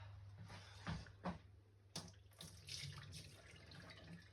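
Excess cooking water is poured off a pot of rice into a sink, a faint trickling splash with a couple of brief knocks from the pot, heard close in a quiet kitchen.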